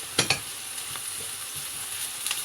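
Flour toasting in a pan for an olive-oil artichoke dish, a soft continuous sizzle with a few sharp stirring clicks early on.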